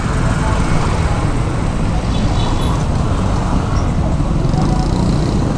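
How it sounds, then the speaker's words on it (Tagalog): Road traffic near Antipolo roars in a constant dense wash of passing cars, buses and motorbikes, loud and close, with a voice speaking over it. "Medyo traffic na eh."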